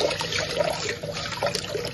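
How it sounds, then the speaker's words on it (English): Dried peas being rinsed in water before stewing, with steady splashing and running water close up and no talk. "I'm gonna wash it down. Just wash it down, rinse it a little."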